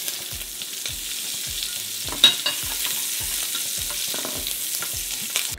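Sausage pieces fry over medium-high heat in a pan for jambalaya, a steady close sizzle broken by repeated scraping stirs of a utensil against the pan, with one sharper knock midway.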